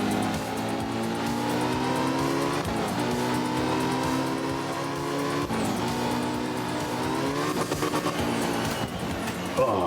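Porsche race car engine in a racing video game holding a loud, continuous drone throughout, its pitch climbing and dipping with throttle changes and a brief drop near the middle.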